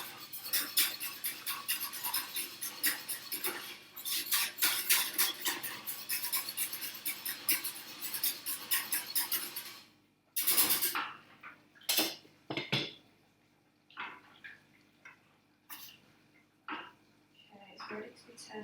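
A whisk rattles and scrapes rhythmically against a pot of thickening lasagne sauce, steady clinking strokes for about ten seconds, then a few slower scattered taps and scrapes with a voice speaking intermittently.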